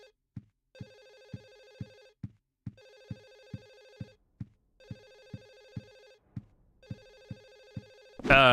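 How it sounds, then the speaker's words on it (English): Telephone ringing in the Silent Hill 4 video game, an old-style bell phone giving four evenly spaced bursts of rapid clanging rings with pauses between, clear and close, before a loud sound cuts in at the end. "Phone ringing somewhere."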